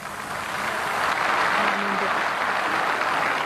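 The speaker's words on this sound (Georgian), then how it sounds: "ამ გამოსვლაში ალბათ ყველაზე ტრაგიკულია ის ტაში, რომელიც ხალხით სავსე ფილარმონიის დარბაზში ისმოდა" A packed audience in a full philharmonic concert hall claps in a steady, dense wash of applause that swells slightly and holds loud throughout.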